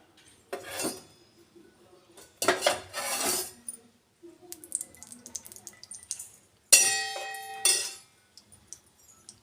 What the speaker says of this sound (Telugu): స్టవ్ వెలిగించుకొని రెండు స్పూన్లు ఆయిల్ అయితే వేసుకోవాలి